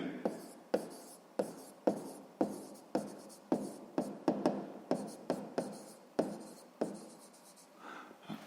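Handwriting during a sixth-grade maths exercise: about fifteen crisp, close pen strokes scratch across paper in a quick irregular rhythm, each a short sharp scrape with brief quiet gaps between.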